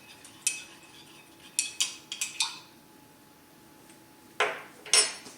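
A spoon clinks against a cup while stirring a quarter teaspoon of honey into roselle tea, giving a few sharp metallic taps spaced apart with quiet gaps between them, close and fairly loud.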